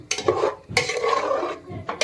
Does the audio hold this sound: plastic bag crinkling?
no